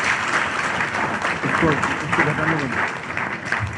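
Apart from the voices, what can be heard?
audience applause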